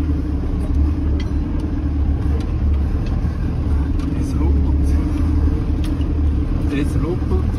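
A camper van drives over a bumpy road in Bulgaria's Rhodope Mountains, with a steady loud low rumble of engine and tires and small jolts throughout.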